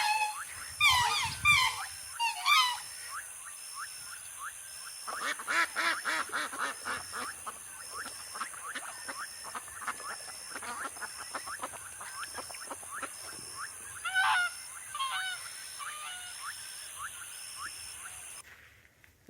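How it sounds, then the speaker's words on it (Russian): Swans and other waterfowl call across Salzhauser lake in a German nature reserve. Repeated squeaky, quacking honks come in scattered bursts at moderate distance over a thin steady high-pitched hum. "где на его просторах величаво рассекали лебеди и другие водоплавающие"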